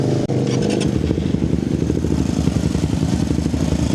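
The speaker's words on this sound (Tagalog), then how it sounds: "Okay, so soundcheck natin guys yung VMAX kay Ivan, yung V25" A VMAX motorcycle fitted with a V25 exhaust revs hard and continuously at a roadside stop, the loud, throaty engine note staying up close and alone, with only a brief dip just after it starts.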